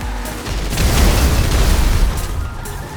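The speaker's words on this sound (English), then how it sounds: "If you detonated a missile in the Deluxo at this range, you'd blow yourself up." A missile blast from the Deluxo flying car in GTA Online erupts as a loud, close, rumbling explosion that swells at once and rolls on for nearly three seconds with a dense low-end roar, no voices.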